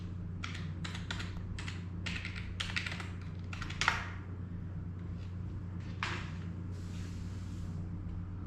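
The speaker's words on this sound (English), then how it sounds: "I gotta type my password." Password typed on a computer keyboard, several quick bursts of crisp key clicks with short pauses between them and a few stray taps near the end, close and clear over a low steady hum.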